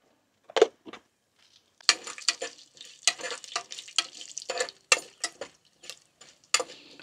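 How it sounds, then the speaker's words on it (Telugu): Mustard seeds, chana dal and cumin hitting hot oil on a small high-flame stove, a close series of sharp sizzling bursts and crackles in irregular clusters, separated by brief quiet gaps, with no talking. "తాలింపు గింజలు అంటే ఆవాలు, పచ్చెనగపప్పు"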